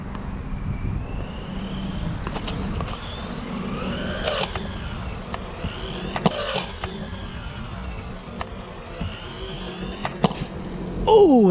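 A DeeRC 001E RC car runs at a skatepark, electric motor whine rising and falling over rough concrete, with scattered clacks and rattles of the chassis and a louder thump right at the end.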